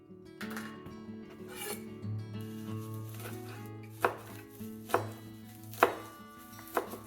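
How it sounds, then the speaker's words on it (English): A knife chops arugula on a cutting board in a few sharp, evenly spaced strikes over low background hum and soft rustling. "So chopping just a little bit of this arugula up."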